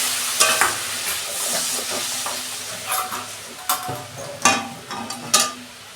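Black cumin crackling in hot oil as a diluted spice paste is poured in for a hilsa fish curry: steady sizzling punctuated by loud bursts and a series of sharp clattering spatula or bowl knocks.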